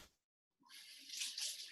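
Water from a kitchen sink tap runs onto a paper towel, a short hiss of flow that starts after a brief silence and swells steadily, close by with no talking.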